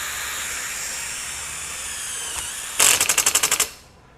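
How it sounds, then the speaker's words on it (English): A Kobalt 24V brushless impact driver drives a self-tapping screw into sheet metal, a rapid burst of about ten sharp hammering impacts lasting under a second, close and loud, over a steady background hiss. "We'll take the same self-tapping style drill or self-tapping screw and drive it in."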